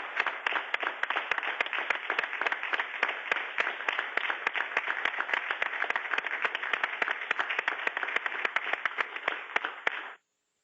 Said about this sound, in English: I think I heard one or two people clapping there.